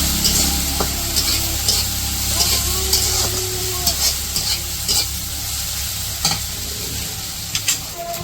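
Dried prawn shrimp sizzle and fry with onion and green chilli in a village kitchen, a steady loud crackle with repeated stirring scrapes throughout and brief voices in the background.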